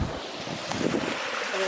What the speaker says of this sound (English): Oh, bit of rushing water.